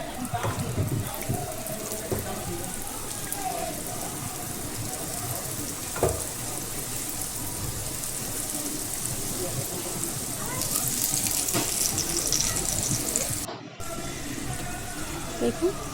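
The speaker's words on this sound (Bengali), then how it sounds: "আপনারা আর একটু তেলের পরিমাণটা বেশি দিয়েও এটা ভাজতে পারেন ডুবো তেলে" Pasta snacks frying in a shallow layer of oil, a steady crackling sizzle with scattered pops and a few clatters, running under a voice throughout.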